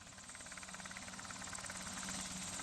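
KISS 209 ultralight helicopter idling on the ground before takeoff at an airshow, a faint, steady engine drone with fast regular rotor pulsing and a slight rise toward the end.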